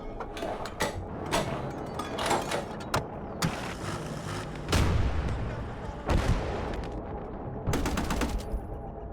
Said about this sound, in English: Use the whole magazine on that guy.